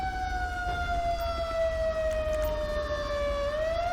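A steady wailing fire engine siren in GTA 5 holds one pitch, then rises slightly near the end, with a low engine-like rumble beneath it.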